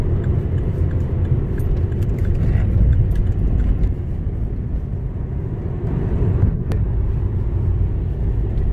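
Heavy road traffic heard from inside a car moving slowly through thick fog, a steady low rumble of engines and tyres with no voices.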